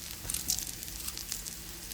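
Dried red chillies fry in oil with onion and garlic, giving a faint, steady sizzle broken by small crackles and pops.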